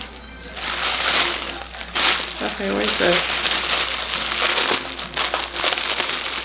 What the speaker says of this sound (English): I can hear the beautiful sound of the paper opening.